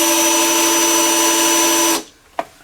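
A step drill bit whines steadily and loudly through material for about two seconds, then stops abruptly, followed by a brief sharp click in the quiet.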